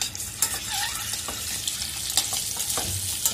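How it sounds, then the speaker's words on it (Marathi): Eggs fry in hot oil in a pan while being stirred, producing a steady close sizzle with soft scraping and occasional light clinks and bubbling pops. "अंडी आपल्याला छान हलवून हलवून फ्राय करून घ्यायचे"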